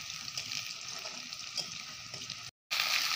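Onions fry in oil with curry leaves and mint leaves for a meat dish, giving a steady, close sizzle with light crackles that cuts out briefly and then returns louder.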